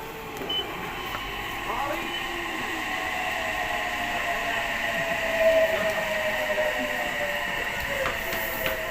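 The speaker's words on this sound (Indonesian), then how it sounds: "Keretanya udah datang" A train rolls into a station in Fujisawa, Japan, with a rising, screeching metallic whine and low rumble, heard from a moderate distance over background station noise.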